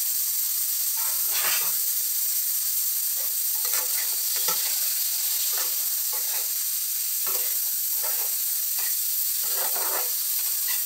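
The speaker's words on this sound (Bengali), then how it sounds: "হলুদ দিয়ে দিলাম, আন্দাজ মতো নুন দিয়ে দিলাম, আন্দাজ মতো চিনি দিয়ে দিলাম। এবার কষাবো।" Govindobhog rice being sautéed with turmeric, salt and sugar in a pan for shahi khichuri, a steady close sizzle and hiss with intermittent scraping stirs, no voices.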